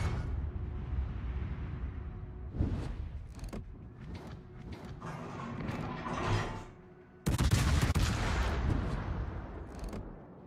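Naval gunfire in the World of Warships video game: scattered booming shots and mechanical rumbles over a steady low ambient drone, with a sudden louder, denser burst of firing near the end.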